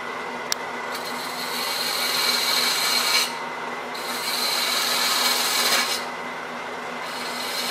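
A wooden box lid is turned down on a wood lathe, giving a steady scraping, rasping cut over the lathe's hum that swells in two longer passes, with a sharp tick near the start.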